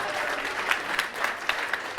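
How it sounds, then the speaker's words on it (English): An audience claps steadily through a best man's speech at a wedding reception. The dense, even applause has scattered sharper individual claps that stand out. "Please, hold your applause to the end."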